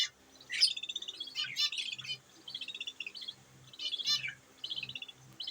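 Budgerigars chirping from inside a breeding box with eggs, bursts of high twittering calls that come and go in short phrases, close and fairly faint, with no talk.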